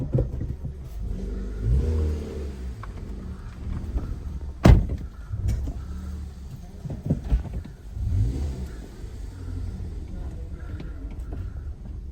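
A Hyundai i20 with a repaired gearbox runs while its gears are shifted through: the engine rumbles and revs up and down, with a sharp mechanical clunk partway through, over a steady low drone.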